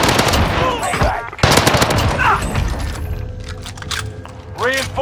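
Call of Duty: Modern Warfare combat gunfire, loud rapid bursts of automatic fire and single shots mixed with mechanical clatter, with voices shouting over the fighting.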